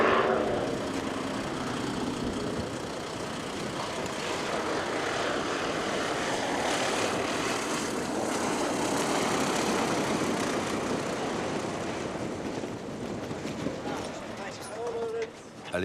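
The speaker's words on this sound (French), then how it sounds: "L'avion transporte aussi des produits de base." A small propeller airplane carrying passengers and supplies to the remote island of Fair Isle drones steadily through a long pass, loud and continuous with a slight swell and fade, while a narrator speaks over it.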